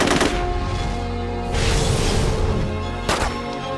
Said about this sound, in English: Trancers pop up and start shooting.